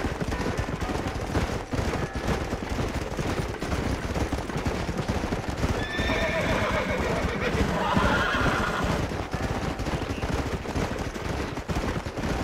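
A horse whinnies in the Red Dead Redemption video game, heard amid dense gunfire and hoofbeats, the neigh rising briefly mid-clip over a constant loud mix.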